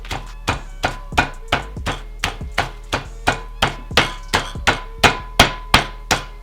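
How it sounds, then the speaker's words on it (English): A meat tenderizer pounds pork flat on a hard surface in a steady series of about sixteen loud, sharp thuds at a regular rhythm, close by, with no talking. "Alright, you want me to pound some pork?"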